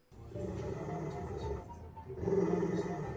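A dog gives a low, rough growl that rises in intensity toward the end, a close but quiet snarling rumble heard alone.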